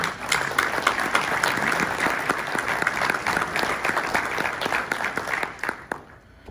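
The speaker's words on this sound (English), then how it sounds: "So please give yourselves a round of applause because I think you deserve it." Conference audience applauding at an annual pension conference keynote, dense sustained clapping from a sizable crowd that holds steady for several seconds before tapering off near the end.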